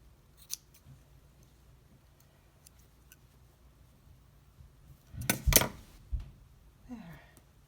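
Scissors snip a stray strand off a yarn pom pom garland: a few faint clicks early on, then a loud close double snip with a short follow-up cut near the end.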